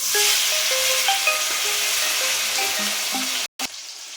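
Tomato dropped into hot mustard oil with fried whole spices, chilli and bay leaf in a wok; a loud, steady hiss of frying fills the whole stretch with a brief cut near the end, no talking.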